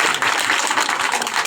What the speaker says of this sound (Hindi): एक बार जोरदार तालियां उनके लिए भी आप बजाएं।